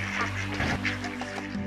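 Mallard ducks quacking outdoors, a few short nasal calls over a steady low background hum, moderately close.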